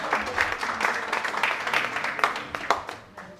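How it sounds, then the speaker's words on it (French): A crowd at a Haitian community celebration in Paris during the Olympic Games claps steadily for a few seconds, moderately loud, with a few sharper claps standing out as it trails off. "S'il vous plaît, des applaudissements pour le Néerlande"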